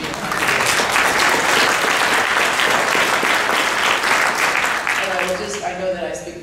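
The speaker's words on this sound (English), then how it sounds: "That was not applause for the corporate leadership, I promise" Sustained applause from a large audience at a historians' presidential address in a hotel ballroom, loud and dense for most of the time, then thinning near the end as a speaker's voice returns.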